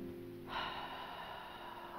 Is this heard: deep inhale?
yes